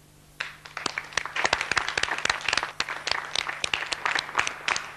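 Audience applause in a Kannada television show studio as guests are sent off, a steady burst of many hands clapping close by, with sharp individual claps standing out over the crowd throughout.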